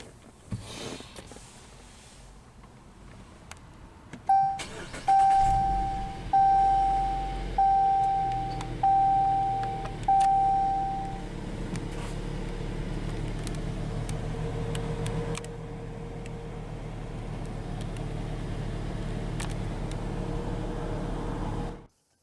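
A 2017 Jeep Cherokee Limited starts with a push-button ignition: a short cranking burst catches into an engine that settles to a steady idle, accompanied by a repeating warning chime that fades out, then a long, even idle rumble.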